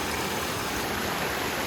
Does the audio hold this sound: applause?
no